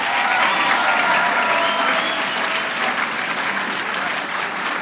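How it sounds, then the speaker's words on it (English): Dense, continuous applause from a school prize day audience for the award winners, a loud, even wash of many hands clapping together without a break. "Can we have one last round of applause for our awardees?"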